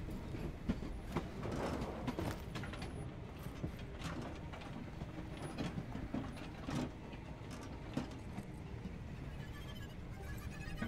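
A train rolls along in the video game Voidtrain, giving off continuous clickety-clack and mechanical rattling with scattered metallic clanks. The sound stays at a moderate, even level throughout, with no speech.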